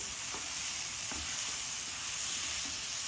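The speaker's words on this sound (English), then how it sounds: "So I'm going to carry on stirring it" Mutton and gobi keema sizzles steadily in a pan while being stirred, a constant close frying hiss with occasional soft scrapes of the spoon against the pan.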